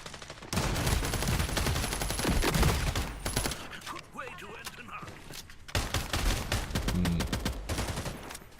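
Gunfire from a sniper rifle in the game Valorant, with dense bursts of shots filling most of the clip, a short quieter gap in the middle, and a voice talking over the action.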